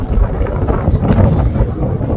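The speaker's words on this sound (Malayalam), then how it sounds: "കാറ്റെന്ന് പറഞ്ഞ അസാധ്യമായ കാറ്റ്." Strong wind buffets the microphone in a steady low roar, loud and close, with gusty surges and no one talking, by a lake at Sela Pass in Arunachal Pradesh.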